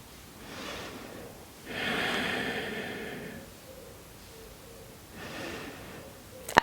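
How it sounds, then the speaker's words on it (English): Slow, deep breathing during a yoga session: a few long, airy inhales and exhales, close and fairly soft, spaced several seconds apart with quiet between them. "Two more breaths here."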